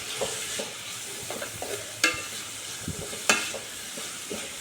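Three onions frying in a pan for egg curry hiss with a soft steady sizzle, while a spoon stirs them in scattered clinks and scrapes, two sharper knocks standing out; quiet and close, no voices.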